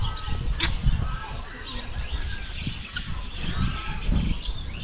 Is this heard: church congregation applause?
no